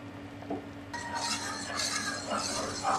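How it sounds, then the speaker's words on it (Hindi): A spoon stirs sweet vermicelli kheer with added coconut in a metal pot, giving soft scraping swirls and light clinks against the pan, fairly quiet and close. "इसे मिक्स करेंगे।"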